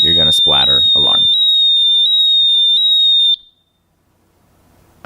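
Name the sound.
Pro Track 2 audible altimeter hard deck alarm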